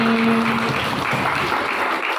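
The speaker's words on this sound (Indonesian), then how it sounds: "Saya minta tepuk tangan dari semua yang ada di sini." A school audience at a student council candidate debate applauds in a steady, full wash of clapping, with a brief tone at the start before the clapping carries on alone.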